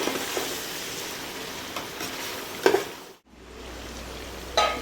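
A spoon stirs country chicken pulao with turmeric in a pot, producing a continuous close sizzle with scraping and a few louder clanks, then a brief dropout before the frying hiss resumes.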